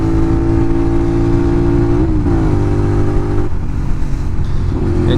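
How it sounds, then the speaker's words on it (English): Honda VTR 250 motorcycle on a country road, the engine droning steadily, then pitch dropping through a downshift and blipping revs, loud and close with wind rush, no talking. "I just love downshifting on this thing, you know, just give a little bit of a rev"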